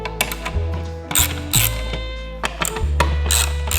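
Factory ECU being pulled from its mounting bracket on a Mitsubishi Evo, close-up clicks, ratcheting and metallic clanks in irregular bursts, with a low steady hum underneath and no talk.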